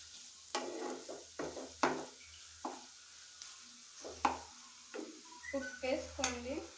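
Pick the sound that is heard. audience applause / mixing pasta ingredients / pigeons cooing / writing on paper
mixing pasta ingredients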